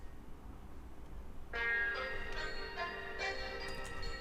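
Thin, filtered vintage soul music sample with muted lows and dull highs starts after a quiet moment and plays on softly, with no one talking.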